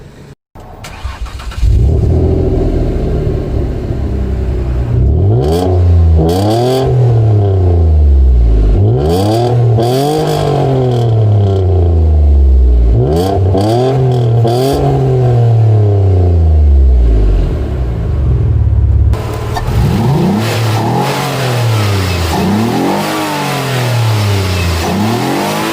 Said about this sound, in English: Let's go ahead and start this up so you guys can hear the exhaust and the intake that has a nice growl to it.